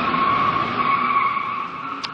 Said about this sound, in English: I was pulling a whole load of very snazzy 360-degree donuts, I had a proper burn on, I was getting some good smoke off the tyres